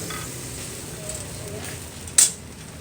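Bird meat sizzles over a grill with a steady, close crackling hiss and a sharp burst of spitting near the end, while people talk faintly nearby.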